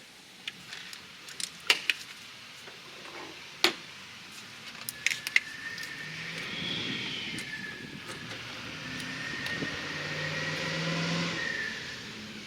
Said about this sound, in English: Sorry, truck driving by.